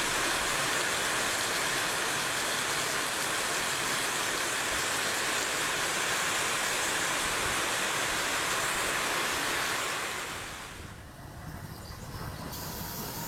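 Heavy rain pours down at a railway station as a dense, loud, even hiss that holds steady and then eases slightly near the end.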